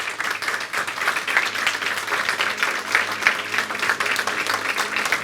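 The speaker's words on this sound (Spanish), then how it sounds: "Dale un aplauso al Señor si tú tienes que alabarlo a Él." Church congregation clapping with enthusiasm, a sustained, close burst of many hands applauding in a lively, uneven rhythm with no talk on top.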